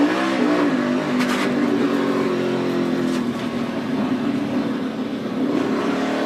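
A NASCAR Cup Series race car at full speed, its engine holding a loud, steady high-pitched roar with slight pitch shifts as it runs continuously close by, no voices over it.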